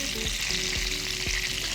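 Duck breast skin frying gently in a pan, a steady close sizzle with faint rhythmic ticks.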